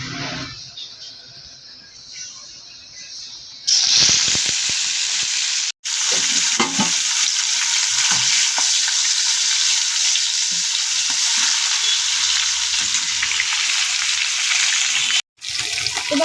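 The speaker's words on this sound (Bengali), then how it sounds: "এবার মাছগুলোকে একে একে দিয়ে নিচ্ছি।" Japanese puti fish going one by one into hot mustard oil in a wok; the sizzle jumps to a loud, continuous crackling frying hiss after a quieter start, with two brief dropouts.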